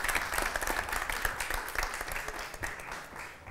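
Studio audience at a Macedonian TV game show applauds the jury representatives, a dense, steady burst of clapping that fills the room and holds for several seconds before easing slightly.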